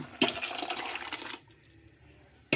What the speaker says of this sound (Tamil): பருப்பு ஊற்றிடலாங்களா